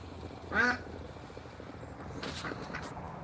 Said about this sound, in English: Oh, you hear my ducks, don't you?